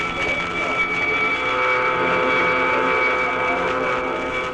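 Massed World War II warplanes approach in a radio drama, a loud, continuous engine roar with a steady droning hum holding throughout, close and unbroken, with no speech over it.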